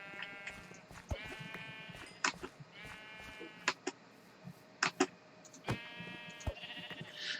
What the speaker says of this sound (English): Wow, we got sheep everywhere.